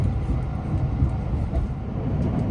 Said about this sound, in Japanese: 列車は先ほど柏原駅を通過しました